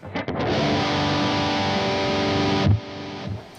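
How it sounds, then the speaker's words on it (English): A strummed electric guitar chord of open strings in open G tuning rings out, sustaining evenly for over two seconds before being muted, with a slightly driven tone. "So the open strings sound like this."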